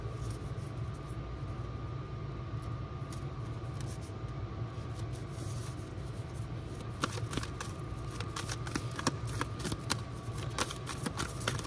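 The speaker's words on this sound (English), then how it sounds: "I know I'm shuffling good." Tarot cards being shuffled by hand during a card reading, a soft continuous riffling and sliding texture that turns into sharper, clustered snaps near the end, steady and close with no talking.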